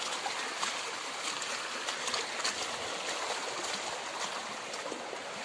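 Floodwater after heavy rain flowing steadily across a village, a continuous soft rushing and trickling wash heard from a moderate distance with no talk, ending in a brief sharp knock.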